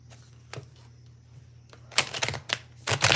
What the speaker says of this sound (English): I can't shuffle correctly.